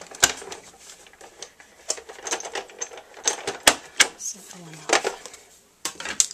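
Die-cutting machine running thin paper and cutting plates through its rollers, giving a close series of irregular clicks and clacks with short pauses between them.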